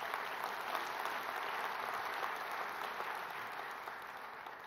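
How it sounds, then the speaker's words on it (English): Audience applause for parliamentary committee members at a public gathering, a dense, even roar of many hands clapping that holds steady throughout, fairly loud and continuous, with no talk. "So applaud them, ladies and gentlemen."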